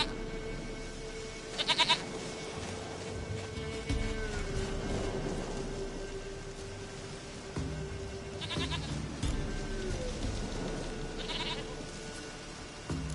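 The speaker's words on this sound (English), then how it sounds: "Goat of mine, dearest, sweetest goat." Goat bleats in the video game Witcher 3, a few short nasal calls at about 2, 9 and 11 seconds over a low ambient game background, fairly faint and with no talking.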